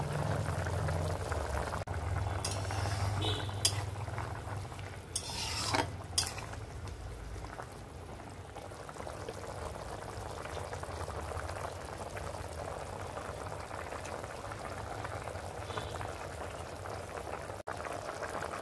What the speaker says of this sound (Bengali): এখন সুন্দর বলক চলে আসছে